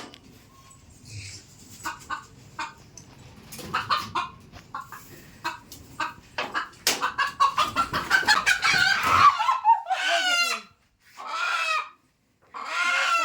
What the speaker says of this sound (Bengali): মোরগটা কিন্তু ধরতে পারছি না।